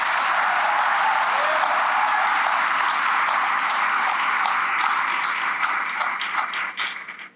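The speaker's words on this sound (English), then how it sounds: "let's give a round of applause to the U.S. Army Band, Pershing's Own Brass Quintet," Audience applause for the U.S. Army Band, Pershing's Own Brass Quintet, at a Military Women's Memorial 25th anniversary program: a dense, sustained wash of many hands clapping, steady and full before tapering off at the end.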